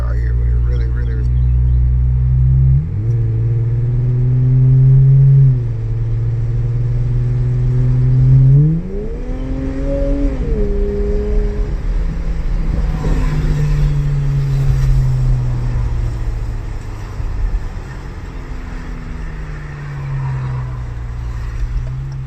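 Loud rumbling revs from a 2019 Dodge Challenger GT Blacktop fitted with Cherry Bomb Xtreme mufflers, mid muffler and resonator delete and quad tips, rising and settling in several pulls before easing into a steady deep idle.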